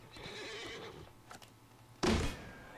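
A horse whinnies in Disney Infinity, a drawn-out neigh up front followed by a brief louder snort or thump near the end, with no voices over it.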